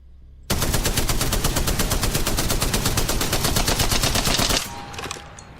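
A light machine gun in Apex Legends fires one long, loud, unbroken burst of rapid, evenly spaced shots, then stops with a short trailing echo.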